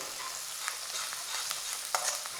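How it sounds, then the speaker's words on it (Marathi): Ginger, green chili and coriander stems sautéed in a pan, a steady close sizzle with light scraping stir clicks scattered throughout, no talking. "यामध्ये घालायचं आहे आलं हिरवी मिरची आणि थोडीशी कोथिंबिरीची कोळी देठ ही खूप भारी लागतात यालाही परतायचं आहे"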